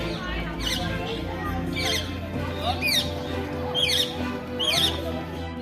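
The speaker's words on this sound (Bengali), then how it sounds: "হুইসেলিং ডাক।" Lesser whistling ducks at a zoo park give about five sharp, rising whistled calls spaced roughly a second apart over a steady background murmur with some talk.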